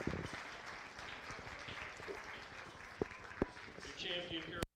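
A crowd applauds at a county fair beef show after purebred breeding heifers are judged. The clapping is soft and distant, and faint talk and arena noise run beneath it before it stops abruptly.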